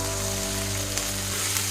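Onions frying steadily in a pan for an egg pepper fry, a continuous close, even sizzle without pauses or voices.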